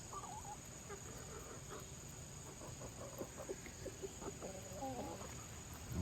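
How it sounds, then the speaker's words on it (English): A neighbour's rooster crows faintly at a distance in a quiet outdoor yard, its calls set against a steady background of chirping insects. "That's the rooster from the neighbor who keeps coming over."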